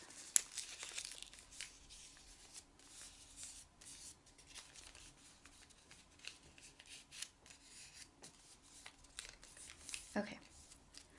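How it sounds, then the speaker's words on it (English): Paper folded in half for an origami bird, giving faint, soft crinkles and creasing rustles scattered across the stretch, quiet and close, with a low voice in the background. "Go ahead and fold your paper in half."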